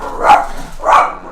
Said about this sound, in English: sorry about my crazy dog